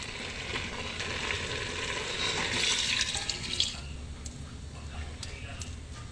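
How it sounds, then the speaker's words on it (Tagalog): First-press coconut milk poured into a cooking pot of simmering ginataang kamansi with peppers, a soft steady liquid splash and sizzle that swells briefly then settles into a quiet bubbling. "Ilagay na din ang unang piga na gata."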